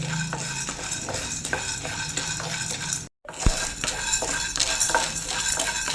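Chana dal roasts dry in a pan while a spoon scrapes and stirs it in repeated rattling strokes, close up. A brief gap comes midway, and there are no voices.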